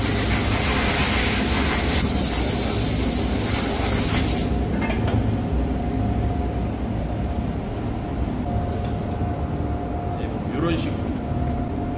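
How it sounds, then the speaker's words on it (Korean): A sandblaster fires high-pressure diamond grit against the painted surface of a wheel in a wheel repair shop, a loud continuous roaring hiss that cuts off partway through, leaving a lower steady machine rumble with faint knocks. "샌드블라스트라고 해서 금강석 알갱이를 도장면 표면에다가 인위적으로 이제 고압으로 막 때려주는 거예요"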